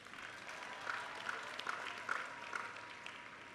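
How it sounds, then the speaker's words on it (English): A distant, faint round of applause for professors, coaches and staff at a Tennessee State University commencement ceremony, with a few louder individual claps and cheers standing out from the soft wash of the crowd. "Let's give them another round of applause"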